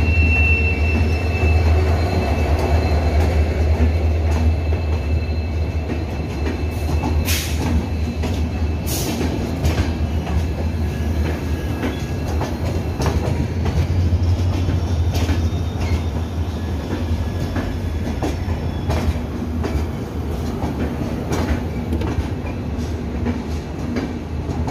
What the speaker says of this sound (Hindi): तो हमारी ट्रेन आ रही है